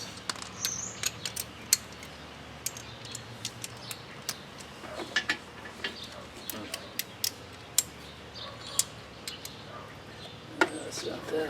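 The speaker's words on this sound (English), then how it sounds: "Undo these fender bolts." Ratchet wrench undoing fender bolts on a 1983 Honda Elite scooter, giving scattered sharp clicks and creaks in short irregular bursts against a quiet background.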